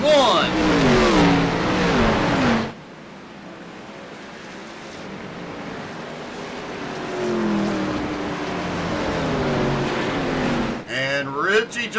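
Race cars roar past on the Watkins Glen circuit, loud engines at first, then a quieter stretch of distant engine drone before another burst of passing cars, with a commentator talking over much of it.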